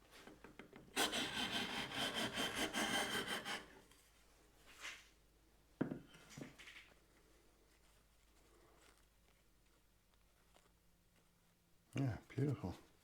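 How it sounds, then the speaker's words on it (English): A Japanese kanna hand plane takes wafer-thin shavings off end grain wood: a loud rasping stroke of about three seconds, then quieter scrapes and taps, with someone speaking in between. "wafer thin shavings off of the end grain"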